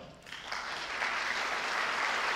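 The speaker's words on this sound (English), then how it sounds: "So give yourselves a big round of applause as well." A brief burst of full applause from a concert audience at a live classical music tribute event, rising quickly and holding steady and loud throughout.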